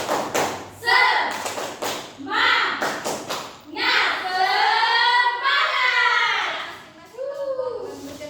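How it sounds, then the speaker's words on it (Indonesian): A class of children claps a rhythmic spirit clap in a classroom, sharp hand claps in short bursts mixed with loud chanting and children's voices throughout. "kita tepuk semangat dulu"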